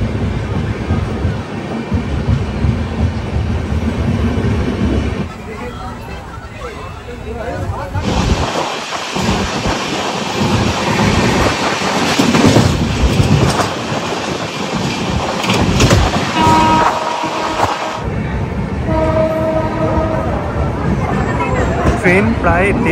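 A passenger train runs on its rails into Bardhaman station in West Bengal, carrying a steady loud rumble and rattle of the carriages with shifting clanks and a faint murmur of voices.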